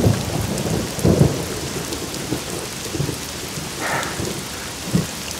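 Steady rain hisses throughout, broken by a few low rumbles of thunder in the distance.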